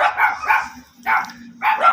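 A dog barks in a few short bursts with pauses between them, fairly close and loud.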